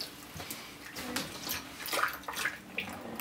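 Clear glitter jiggly slime being mixed by hand, giving soft, wet bubbling and squelching pops that come in small irregular bursts, close up and fairly quiet.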